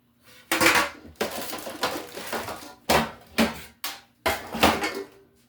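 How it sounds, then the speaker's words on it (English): A tin sheet pan handled in a kitchen while baking a Christmas cake, giving a series of close metallic clanks, scrapes and rattles in uneven bursts with short pauses between, and no talking. "So I'm gonna use a tin sheet pan."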